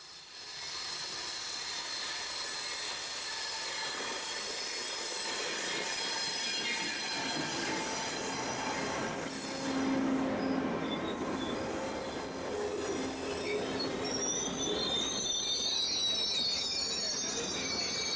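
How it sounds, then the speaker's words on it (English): The Amtrak Cardinal passenger train pulls into a station on a curve, its wheels giving a sustained high metallic squeal over a steady rolling rumble and hiss, moderately distant. "gives a great view of the arrival of Amtrak number 50"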